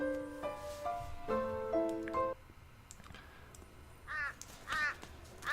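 Crows caw in the shoot'em up video game A Quiver of Crows, with a few clear, moderately loud calls in quick succession followed by a pause and two more caws.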